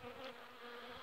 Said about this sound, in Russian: Пчела, значит, итальянка, желтая.